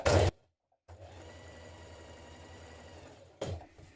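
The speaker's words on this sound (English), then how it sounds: "you're going to stitch 2 rows of stitches around the bottom of each sleeve" A sewing machine runs steadily for about two and a half seconds, stitching gathering rows around the bottom of a dress sleeve, with brief louder bursts at the start and end and a silent gap before it begins.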